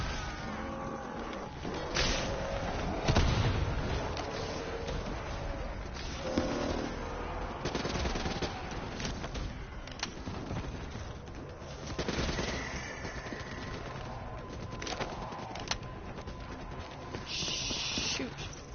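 Gunfire in Call of Duty: Black Ops 3 on the Nightmares map, scattered bursts and single shots among other game noises, fairly soft and intermittent throughout, with occasional voices.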